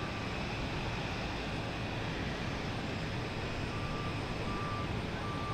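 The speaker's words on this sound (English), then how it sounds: "Here's Delta, heading to Pittsburgh, E175. And it'll be right in front of us again." A Delta Embraer E175 airliner passes at Boston Logan Airport, a steady broadband jet roar that holds at an even loudness throughout, with no voices.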